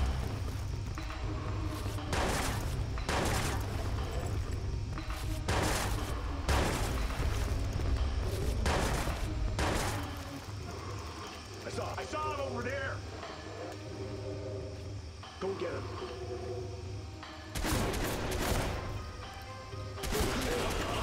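Gunfire in the Watch Dogs prison level: repeated loud bursts of shots and impacts across the first half, then quieter game action with a shouting voice over the top, and more bangs near the end.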